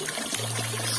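Spring water pours from a hose into a pipe at a remote hillside home in rural West Java, a steady continuous gush and trickle, close and even throughout.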